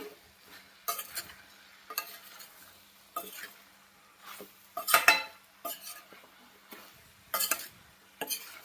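Broad beans and potato curry being stirred in oil in a pan, with repeated scraping and clinking strokes of a spoon in distinct bursts about a second apart, over a faint sizzle.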